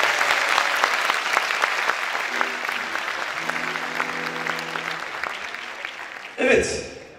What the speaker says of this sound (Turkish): Öncesinde çocuklarımıza lütfen kocaman bir alkış